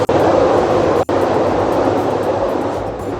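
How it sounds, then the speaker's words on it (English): An elevated L train rumbles past outside an art studio, a loud steady roar of rail noise filling the whole stretch with two brief dropouts near the start. "that was the L train going by"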